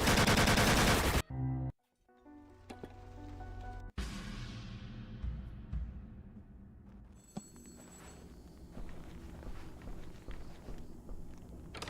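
Gunfire in a video game: bursts of shots and clattering game effects mixed with background music and ambient game sound, moderately loud.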